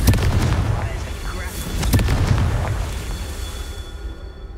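Rapid spell explosions in Hogwarts Legacy combat, including Bombarda and Confringo, erupt as loud cracking bursts and deep booms in quick succession, then the rumble thins out toward the end.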